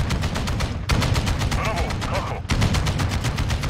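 A helicopter door gunner fires a mounted machine gun in Call of Duty: Modern Warfare II, sending long rapid-fire bursts, loud and near, split by two brief pauses, with a voice faintly underneath.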